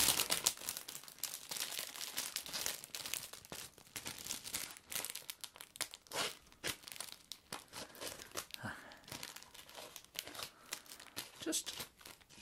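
Suit fabric trimmed into shapes during a gentleman's suit fitting, a long run of close crinkling, rustling and snipping bursts with an irregular rhythm, quiet and intimate, without talk.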